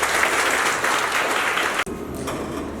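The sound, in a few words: audience applause at an inauguration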